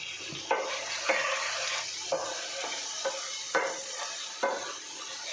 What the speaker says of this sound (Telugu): ఇప్పుడు ఒక టెన్ మినిట్స్ ఇలానే ఫ్రై చేసుకుందాం